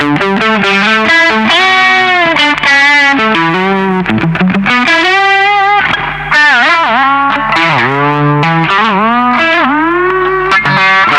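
Distorted Fender Stratocaster Vintera electric guitar on the third pickup position, playing a melodic line with chorus-like shimmer, steady and loud, sustained notes sliding between pitches, no voices.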